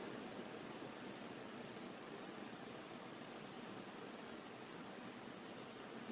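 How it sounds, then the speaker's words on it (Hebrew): Water pours steadily into a mixing container to fill it halfway, a continuous even rushing and splashing at moderate level with no voices. "בשלב הראשון צריך למלא חצי מהכמות מים הנדרשת."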